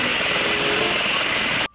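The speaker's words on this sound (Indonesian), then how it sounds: "Wow, lihat baling-balingnya teman-teman. Wah, kencang sekali berputar teman-teman." A toy helicopter's propeller spins fast, giving a loud, steady whirring drone that holds evenly and then cuts off abruptly at the very end.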